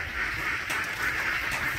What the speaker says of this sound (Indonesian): Inilah itik. Itik ini mereka bergerombol ya